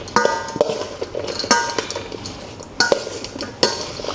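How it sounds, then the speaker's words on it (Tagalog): A large spoon stirs and tosses a breakfast salad in a container. It gives several sharp clinks and scrapes against the sides between softer rustling, close and clear, with no talking. "And then, mix natin siya with spoon."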